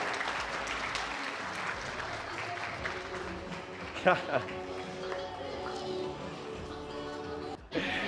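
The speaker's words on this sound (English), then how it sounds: "Please give a big round of applause." An audience at a startup event in Rajasthan applauds as a co-founder is welcomed on stage, with sustained clapping at moderate distance, a few sharper claps standing out, and voices mixed in.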